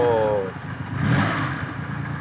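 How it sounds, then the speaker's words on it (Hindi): A Triumph Rocket 3 motorcycle with a 2,500cc engine is revved with the throttle, giving a deep rising engine roar close by, with a voice briefly heard at the start. "तो जब मैं थ्रॉटल इसका देता हूँ तो क्या होता है?"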